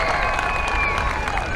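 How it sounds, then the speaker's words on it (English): Crowd applause and cheering in the stands at a state fair high dive show, with a steady wash of clapping and some yelling alongside faint talk, continuous and fairly loud throughout. "let's get behind him with a huge round of applause for our high"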